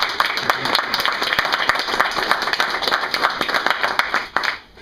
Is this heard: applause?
yes